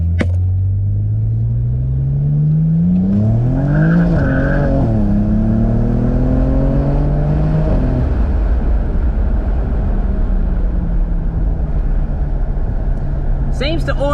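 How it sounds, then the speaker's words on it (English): BMW with an N54 engine, DCT gearbox swap and 19 psi boost pulling hard from inside the cabin, engine revs climbing in steps through quick gear changes and then settling into a steady rumble. Voices talk over it. "It's chirping the tyres on the 2-3 shift"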